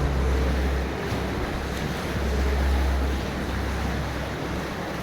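Steady rushing water of a river flowing under the mountains at Tam Coc, Ninh Binh, with strong wind buffeting the microphone, a continuous loud roar with low rumbling gusts throughout.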